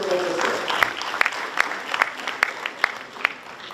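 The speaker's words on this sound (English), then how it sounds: "Jose, President of University of Columbia, give a huge applause to him." A university audience applauds during an inaugural address, a continuous round of clapping with sharp, regular louder claps punctuating it, fairly distant and moderate in level.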